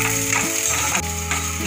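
Onion frying with masala in a pan, a continuous dense sizzle that stays loud and steady throughout, with a faint scrape of stirring partway through.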